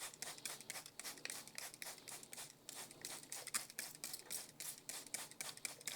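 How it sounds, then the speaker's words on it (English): A rapid, uneven series of short spritzes of water from a small sprayer onto French marigold seeds, dozens of crisp bursts in quick succession, close and fairly quiet. "a little sprayer, and then just spray this down"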